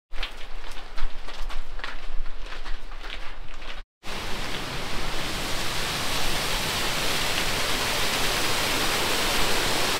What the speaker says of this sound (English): We've just made it to a waterfall